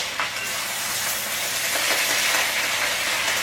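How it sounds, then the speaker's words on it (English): Collard greens simmering in a pot for supper give off a steady, close hiss and sizzle, with faint scraping and clinks as they are stirred, and no talk. "Give these a quick stir before we go out."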